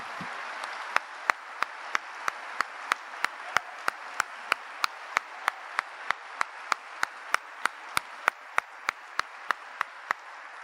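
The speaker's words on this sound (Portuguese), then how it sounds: "Você pode dar um aplauso que glorifique a Deus?" A church congregation claps together in a steady, even rhythm, with sharp repeated hand claps over a soft, continuous crowd murmur.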